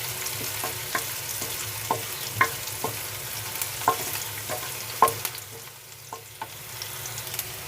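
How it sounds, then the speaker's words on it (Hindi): A spoon scrapes and taps around a pan in irregular knocks while onions sizzle steadily underneath, close and moderately loud. "एक मिनट तक इस तरह से चम्मच चलाएंगे, प्याज हमारी अलग अलग हो जाए।"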